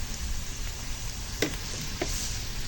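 Cumin and turmeric sizzle in a hot pan while cooking kantola, a continuous soft frying hiss with a couple of brief crackles, fairly quiet and without talk.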